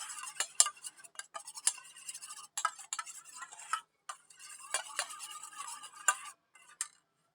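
Lettuce and cucumber salad is tossed in a bowl with utensils, giving a string of light clicks, taps and rustles in irregular bursts with short pauses, close and fairly quiet.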